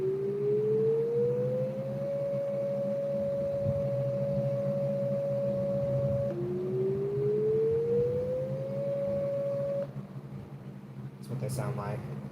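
A civil defense siren's normal wailing tone, probably played from a device, rises in pitch, holds steady, then rises again over a constant low hum, with a brief voice near the end.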